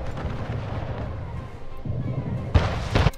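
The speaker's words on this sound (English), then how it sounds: "A ship was destroyed." A ship is destroyed under attack in Anno 1800, with low rumbling booms building to two sharp, loud blasts near the end over a murky game background.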